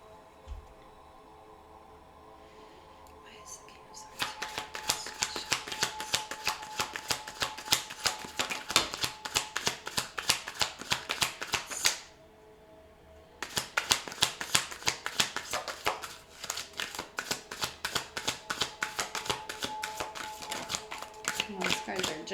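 Tarot cards are shuffled in quick, crisp riffling bursts that run steadily, pause briefly, then resume up close.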